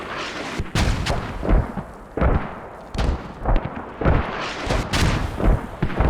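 Repeated heavy booms of mortar fire in a video game battle, with several sharp impacts at irregular intervals amid a rumbling, chaotic background, loud and close.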